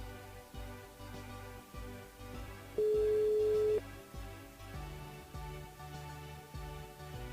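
Telephone ringing on the line during a live radio call, a repeated ring tone sounding several times in a regular rhythm, with a brief steady tone partway through.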